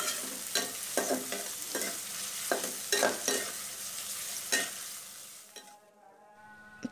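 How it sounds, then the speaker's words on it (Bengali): Small fish and green chillies frying in hot oil, a close, steady sizzle broken by repeated scraping stirs of a spatula, dying away near the end. "এগুলো সব একসাথে আমি কিছুক্ষণ তেলের মধ্যে ভেজে নিব"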